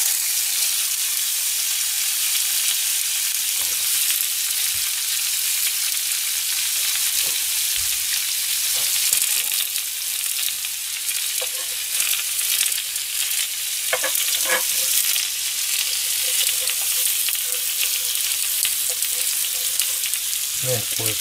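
Hamburg steak fries in a sukiyaki pot over low heat, giving a steady, dense sizzle close by that runs throughout with occasional small pops and stirring sounds.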